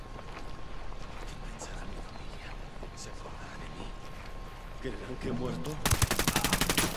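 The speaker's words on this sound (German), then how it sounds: "scheiße, ich werde beschossen" Rapid automatic gunfire in Ghost Recon Wildlands breaks out near the end, a fast rattling stream of shots following a stretch of ambient game sound with a voice talking.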